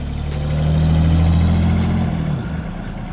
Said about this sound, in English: That was just Austin fixing his exhaust for school.